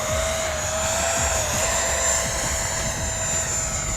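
An E-flite Viper 64mm electric ducted-fan RC jet makes a high-alpha pass, its fan producing a steady, loud high-pitched whine with a constant hiss and little change in pitch.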